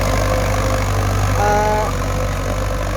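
A Ford farm tractor engine idles with a steady, loud low rumble and constant hum throughout, joined briefly by a faint higher whine partway through.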